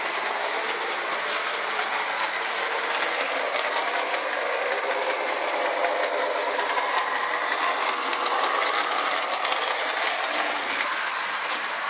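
A vintage O scale EMC diesel model locomotive built by Denver Locomotive Works in the mid-1940s runs steadily, giving a continuous whirring, grinding motor and gear noise at even loudness for the whole stretch.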